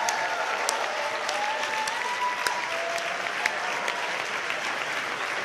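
An audience at a Hungarian university students' winter camp applauds, giving dense, sustained clapping from many hands with a few sharper individual claps standing out, with no talking.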